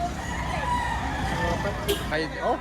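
A rooster crows at a busy livestock auction market, its drawn-out call rising in the background amid steady crowd murmur and people talking nearby.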